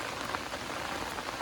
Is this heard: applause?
no